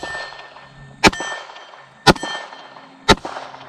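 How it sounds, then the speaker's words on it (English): Three loud, evenly spaced metallic clangs as bullets strike an MGM steel gong target, each impact ringing briefly before the next, with no talking. "Let's try the MGM gong on this one."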